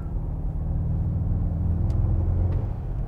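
Mercedes-AMG GT 63 S 4MATIC+ four-door coupé producing a steady, loud low engine rumble from inside the car, with a faint brief hiss that may be turbo blow-off near the end.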